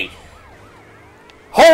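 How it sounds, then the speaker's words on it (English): Police siren wailing from a car in the video game GTA Vice City, steady and moderately loud for most of the moment, then drowned by a sudden loud burst of sound at the end. "Turn the sirens off."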